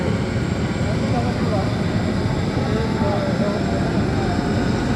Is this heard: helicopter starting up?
yes